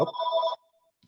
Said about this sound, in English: that's the house phone and I didn't turn it off